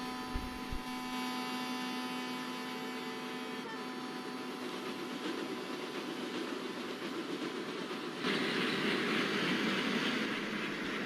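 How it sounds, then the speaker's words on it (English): Superfast express train hauled by a TKD WDP4B diesel locomotive nearing Chanderia station, a steady droning engine hum and rail rumble that swells louder toward the end. "superfast express, I think, which is coming with a rapid speed towards Chanderia station with the TKD WDP4B locomotive"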